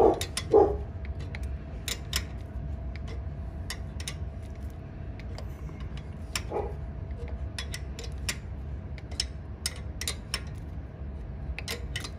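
A dog barks a couple of times near the start of a 2005 Mustang GT 4.6 three-valve timing job in a garage, then sharp metallic ticks and clicks of tools on the engine continue over a steady low hum.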